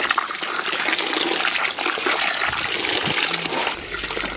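Crayfish swirled and rinsed in a bucket of water outdoors, giving a steady close sloshing and trickling wash with splashes throughout and no talk.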